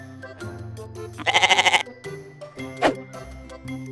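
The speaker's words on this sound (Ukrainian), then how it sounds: "Коза." A goat gives one loud, quavering bleat lasting about half a second, heard over soft background music with a few faint tones around it.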